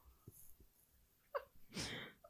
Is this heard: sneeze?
yes